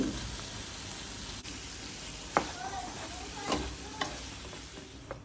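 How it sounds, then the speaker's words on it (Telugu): Masala sizzles steadily in a kadai, a dense hiss of frying with a few clinks and scrapes of stirring, close and continuous. "దీన్ని ఇప్పుడు నేను వేసేస్తున్నానండి ఇలా వేసేసి కొంచెం ఫ్రై అయిన తర్వాత ఈ బెండకాయలు అనేవి కూడా యాడ్ చేసేయాలి"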